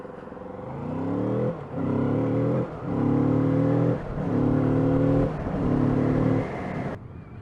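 A stock 2019 Kawasaki Z650 motorcycle engine revs up five times in succession from close by, each rise through the exhaust a smooth, moderate whirr separated by short drops back toward idle.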